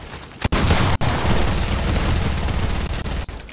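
Rapid, loud automatic gunfire in Fortnite shooting out an opponent's built wall, an almost unbroken barrage of close shots with a couple of brief gaps.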